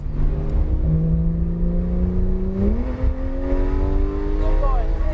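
A Porsche 911 GT3 RS accelerates hard on the Charlotte Motor Speedway track, its engine note climbing steadily, dipping briefly at a gear change, then rising again loud and close.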